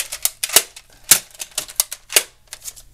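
A Nerf Disruptor blaster fires in quick bursts of sharp clicking snaps, about a dozen shots in irregular rapid succession, close and fairly loud with no talk.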